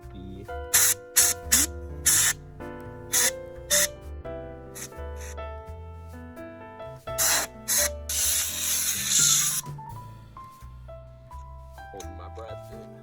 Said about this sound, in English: I decided to bring the PC outside and use an air compressor to dust all of the dirt away.